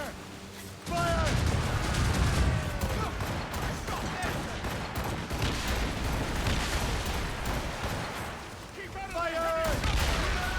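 Ship cannons firing a volley in the video game Assassin's Creed Rogue, a sudden loud burst of booming shots rolling into a sustained rumble of gunfire and explosions, with shouted voices rising over it near the end.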